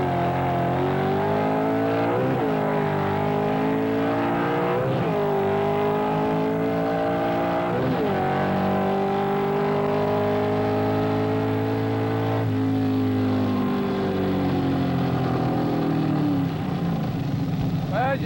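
A vintage Ford Superstock drag race car thunders through a quarter-mile run with a professional driver, its loud engine climbing in pitch through repeated gear shifts at a steady roar throughout, heard close up without pause.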